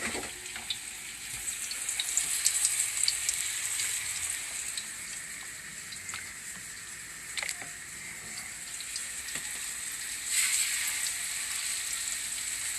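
Schnitzel frying in hot oil gives a dense, steady sizzling hiss with small pops and crackles, close and even throughout, with no voices.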